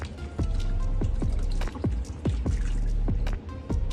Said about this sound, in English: I'm gonna put that into the sink, empty out the hot water.